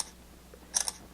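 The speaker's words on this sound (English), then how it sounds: "probably most people are just going to launch the camera and hit the shutter button" A Samsung Galaxy S5 smartphone plays its camera shutter sound once, a quick crisp click-like burst near the end of an otherwise quiet moment.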